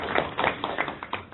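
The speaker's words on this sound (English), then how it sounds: "Yes, I want to give an applause." Applause at a lecture on melting ice, a small group clapping in a quick uneven patter, close and moderately loud, heard over a narrow, slightly muffled line.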